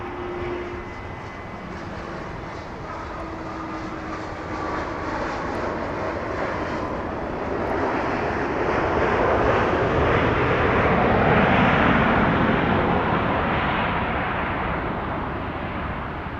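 A FlexJet jet touching down at Dallas Love Field after a flight from Kansas City gives a steady, broad engine roar that swells to its loudest midway and then eases off, heard with no talk over it.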